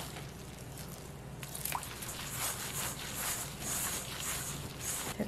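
Water is poured into dry rice flour for omegi rice cake, giving a continuous soft trickling and splashing with wet squishing as it lands in the bowl.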